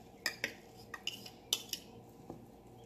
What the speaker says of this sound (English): Now I add this onion and parsley